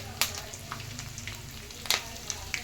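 Curry leaves sizzle in hot oil for puliogre, a steady frying hiss under a few sharp crackles and spatters, with no voices.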